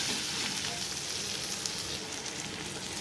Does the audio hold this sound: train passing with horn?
no